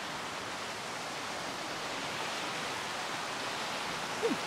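A snowmelt creek rushes beside a hiking trail, a steady, even wash of flowing water heard close by throughout, with a brief faint chirp near the end.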